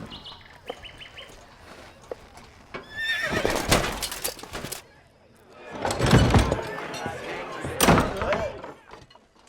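A horse whinnies and its hooves clip-clop on arrival at a castle in a Don Quixote film, with birdsong in the background and bursts of loud activity across the clip, while a voice speaks.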